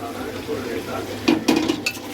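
Masala-coated chicken stirred in a cooking pot for home biryani, producing several clanking metal spoon scrapes and knocks against the vessel in quick succession over a low background hum.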